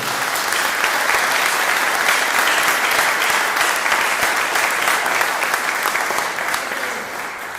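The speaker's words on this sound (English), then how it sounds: "So I think a big round of applause for David, don't you" Sustained applause from a church congregation during Sunday worship for All Saints Day, dense and even, with a few sharper claps standing out before it tapers off near the end.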